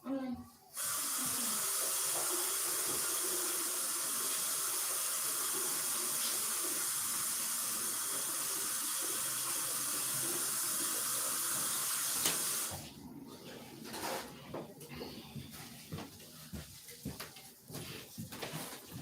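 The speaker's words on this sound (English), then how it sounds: "let me wash my hands" A sink tap runs with a steady, close hiss of water for several seconds while hands are washed, then shuts off, followed by a person speaking.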